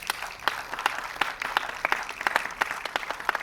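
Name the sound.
audience applause at felicitation event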